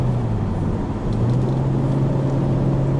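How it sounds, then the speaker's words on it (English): An Infiniti G35 Coupe in manual mode sustains a steady, loud engine drone with a brief dip before the tone climbs as the revs rise after a downshift. "So let me downshift a little bit so I can have more power."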